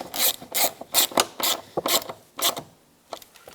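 Fasteners for towing mirrors on a 2008-2010 Ford F-450 Super Duty are snugged into metal, making a series of about nine short ratcheting bursts in an uneven rhythm, close and fairly loud with brief pauses between.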